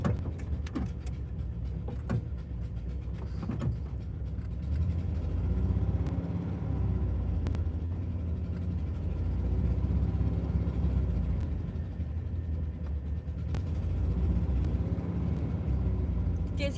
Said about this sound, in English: Do you guys hear the revving?